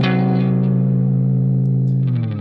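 A tritone interval rings out on a distorted electric guitar, a single sustained chord with heavy drive and some reverb, loud and alone before fading slightly at the end.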